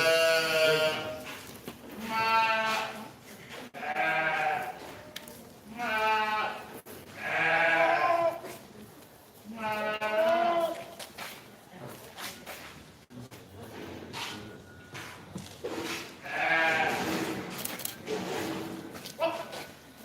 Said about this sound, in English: Again, this is the first class of the market goats.